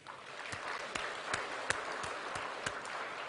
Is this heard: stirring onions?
no